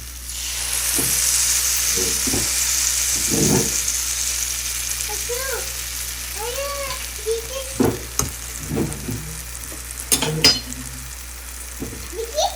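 A broad, steady sizzle of batter frying in hot ghee in a pan fills the first half, then thins out while scattered clinks and pan knocks punctuate the quieter second half.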